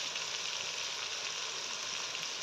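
Oil sizzles loudly and evenly in a pan while malai palak is fried with chillies and salt, a dense unbroken crackle with no voices.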